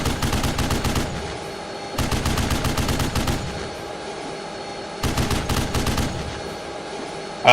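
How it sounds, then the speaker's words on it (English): .50 cal heavy machine gun fire in a military video game, loud rhythmic bursts of evenly spaced rapid shots, three separate bursts broken by short pauses, no talk. "Witness Fast is using his 50 cal."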